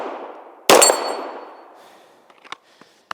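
A single loud, close pistol shot from a SIG P320 Legion on a snowy outdoor range cracks out and rings off into a long fading tail, followed by a few small faint clicks and taps.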